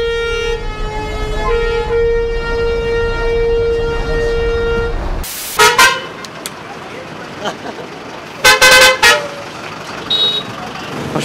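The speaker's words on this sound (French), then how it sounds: "Ils ont tous des klaxons de ouf et les pires c'est ceux des bus." Loud, sustained horn blast with rich stacked harmonics holds for about five seconds, then short sharp honks and bursts from other vehicles sound in busy street traffic in India, with bus horns among them.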